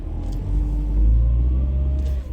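A Mercedes car engine idles steadily with a deep, close rumble, holding even and unbroken, with no voices over it.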